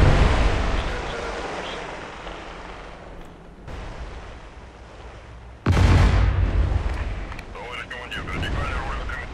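Naval shell explosions in the submarine game Cold Waters, fired by Soviet surface ships: deep rumbling booms, with a sharp loud blast partway through over continuous sea-like noise, and no voice.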